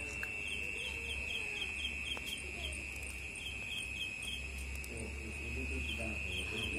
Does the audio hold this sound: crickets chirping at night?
yes